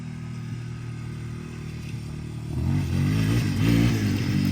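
Yamaha Warrior 350 ATV engine while riding, a low steady idle-like rumble that rises into a louder revving surge partway through, close by.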